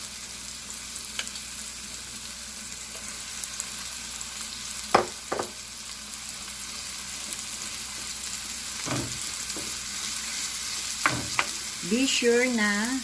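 Ground meat hissing in a hot pan, a steady low sizzle broken by a few scraping stirs of a utensil, with a brief spoken phrase near the end.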